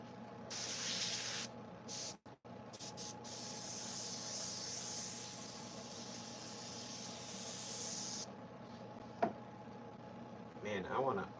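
Airbrush spraying paint onto a carved chainsaw-art sculpture, a steady close hiss running for several seconds with brief pauses as the trigger is released, ending with light handling noises.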